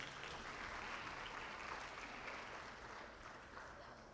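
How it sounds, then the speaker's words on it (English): Audience at a Bharatanatyam arangetram dance recital applauds in a dense, even wash of clapping from a large crowd, heard at a distance and fading slightly toward the end. "Can we hear another round of applause"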